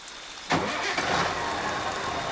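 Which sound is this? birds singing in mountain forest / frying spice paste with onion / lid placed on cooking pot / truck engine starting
truck engine starting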